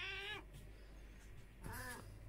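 A cat meows twice, two drawn-out harmonic cries about a second and a half apart, close by and fairly quiet over a steady low hum, with no talking in between.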